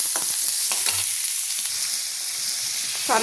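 Onions and masala sauté in hot oil, a steady close sizzle with occasional stirring scrapes, no voices.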